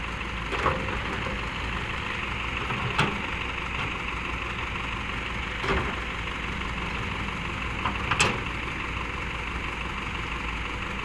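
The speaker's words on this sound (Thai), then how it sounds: "รอบเครื่องยนต์นี่อยู่ที่สองพันรอบต่อนาทีเด้อนะครับพี่น้อง" A Hino 344 ten-wheel truck engine holds steady at two thousand rpm, a continuous low rumbling drone with a few faint clicks or knocks scattered through it and no voices.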